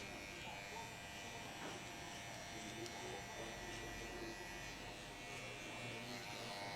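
An electric hair clipper with a number 2 guard buzzes continuously at low level while cutting a mid fade haircut, a steady whirring drone with no pauses.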